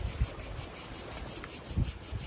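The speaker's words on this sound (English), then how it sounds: "Friendly crickets in the background." Crickets chirp in a steady pulsing trill on a summer evening in Cavtat on the Croatian coast, faint and constant in the background with a couple of soft low thumps nearby.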